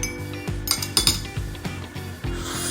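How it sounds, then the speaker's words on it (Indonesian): A metal spoon dipped into a cup, giving a string of light metallic clinks and taps against the cup at an irregular, fairly steady pace, close and moderately loud with no talking. "pada saat saya mencelupkan sendok logam ini ke dalam cangkir ini"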